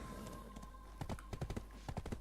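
Horse hooves clip-clopping in the video game Black Desert, a short run of crisp, evenly spaced hoofbeats at close range over a faint steady background hum.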